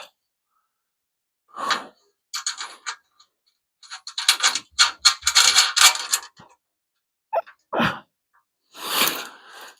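Nut being threaded and tightened onto a front bumper bolt of a hemi Plymouth Duster, with spacer, flat washer and lock washer, heard as bursts of metallic clicking and ratcheting separated by short pauses, close and fairly loud.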